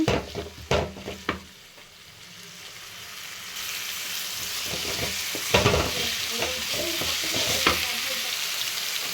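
Ginger garlic paste hits a hot pan with carrot, opening with a few knocks and scrapes before a rising, continuous sizzle takes over, punctuated by occasional stirring clatter.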